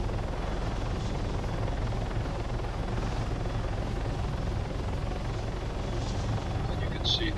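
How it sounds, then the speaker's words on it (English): Video game helicopter, a landing ship transport, flying on a tour with a steady loud rotor and engine drone throughout, a voice talking over it. "So this is the landing ship helicopter"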